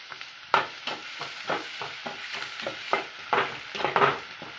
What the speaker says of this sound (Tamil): வடச்சட்டி அடுப்பில் வச்சு எண்ணெய் சீரகம் வெங்காயம் கருவேப்பிலை போட்டு இங்கே பாருங்கள் தாளித்து வெந்துக்கிட்டு இருக்கு